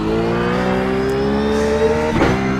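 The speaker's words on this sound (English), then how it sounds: "Just gave it a little blip of throttle at the wrong time" A Ruf GT3 race car in iRacing at Silverstone holds a steady engine drone, then gives a quick throttle blip near the end that lifts the engine note briefly. The sound is close and loud.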